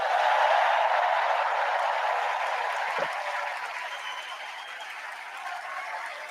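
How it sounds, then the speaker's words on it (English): Applause from a crowd honoring First Lady Jill Biden at a political event, a steady broad wash of clapping that holds for several seconds and fades gradually. "Let's give a special round of applause to our First Lady"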